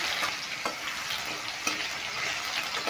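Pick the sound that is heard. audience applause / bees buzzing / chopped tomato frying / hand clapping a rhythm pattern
chopped tomato frying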